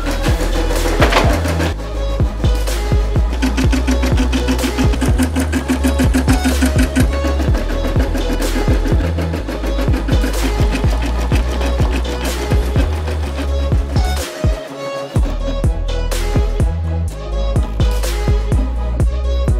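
A Baby Lock Verve sewing and embroidery machine stitches a design with a continuous, fast, even mechanical chatter. The sound stays loud and close almost the whole time, with only a brief dip near the end.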